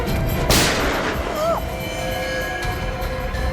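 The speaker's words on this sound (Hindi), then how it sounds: "बच्ची पे गोली चलाता है।" A single sharp gunshot cracks out in a Hindi TV crime drama scene, a loud, near report followed by quieter background sound and a brief whistling tone.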